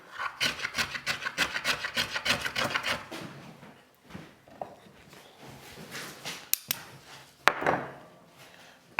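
A luthier's small hand plane with a rounded sole shaves wood inside a hollow, making a rapid series of close rasping strokes that later thin out into scattered scrapes and knocks.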